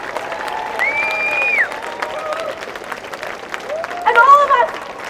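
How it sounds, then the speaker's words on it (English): A crowd at an outdoor protest rally against the far right applauds Mackay with steady clapping and scattered cheers, while voices and shouts rise over it, swelling louder near the end. "Another round of applause for Mackay."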